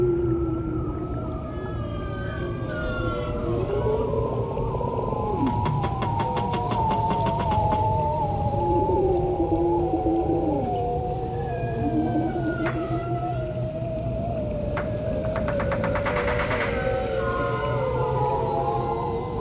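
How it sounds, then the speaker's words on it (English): Bearded seals recorded underwater by hydrophone give long descending whistles and warbling trills, several overlapping calls over a steady low drone, with no talking. "Most of what you're hearing is the bearded seal, known as the ujuk."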